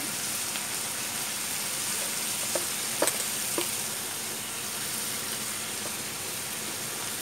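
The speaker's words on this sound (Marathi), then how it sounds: "आता मी खोबरं टाकते" Grated coconut frying with onions in a pan for chole chana masala, a steady close sizzle with a few light stirring taps.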